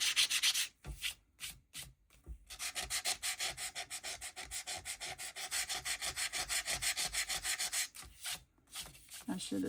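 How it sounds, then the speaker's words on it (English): Steady rhythmic sanding of glue smudges off a handmade Valentine card with a small sanding tool, a rapid back-and-forth rasping of abrasive, close up, with a few brief pauses between strokes. "I can sand those little glue smudgies off"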